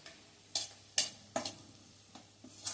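Half a spoon each of asafoetida and cumin seeds sizzles softly in hot oil for a kofta curry gravy, with faint crackling and a few sharp stirring scrapes at uneven intervals, close and quiet.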